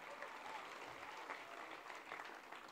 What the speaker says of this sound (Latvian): Lūdzu, sagaidām ar aplausiem